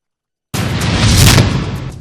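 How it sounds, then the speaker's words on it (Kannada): A blasting explosion at an illegal stone quarry on a hillside goes off suddenly after silence, a loud broad boom that rolls on and slowly fades. "ಬೇಬಿ ಬೆಟ್ಟದಲ್ಲಿ ನಿಷೇಧವಿದ್ರೂ ಬ್ಲಾಸ್ಟ್."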